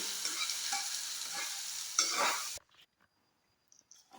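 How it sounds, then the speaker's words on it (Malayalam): Cucumber curry sizzles and is stirred in a frying pan, with a steady crackling fry and spoon scraping for a couple of seconds before it suddenly drops away to near silence and a few light clinks. "അപ്പം നമുക്കിതൊന്ന് ഇളക്കി കൊടുക്കാം"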